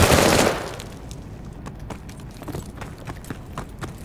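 Rapid gunfire from a first-person shooter video game, opening with a loud burst of shots and trailing off into scattered quieter shots and clicks.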